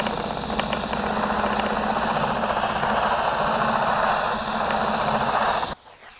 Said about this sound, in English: a good roller would spin very fast